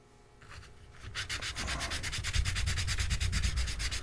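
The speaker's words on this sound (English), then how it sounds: "I might have to grab a little bit more radical piece of sandpaper." Sandpaper rubs back and forth on the wooden body of a Glarry Telecaster guitar in quick, even strokes, close and building in loudness, with no talking.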